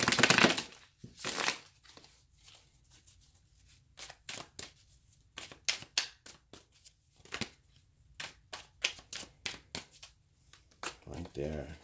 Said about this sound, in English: just gonna get one more good shuffle